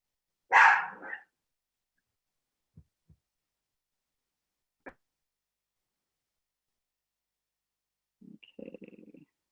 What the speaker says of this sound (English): my dog's getting a little barky